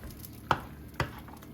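Drained pasta being stirred into a cheese sauce for three-cheese mac and cheese, with two distinct wet thuds or scrapes of the spoon about half a second apart over a soft background.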